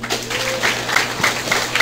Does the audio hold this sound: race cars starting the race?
no